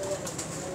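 High flyer pigeons give a brief, soft, low coo at close range, heard alone in a very short moment.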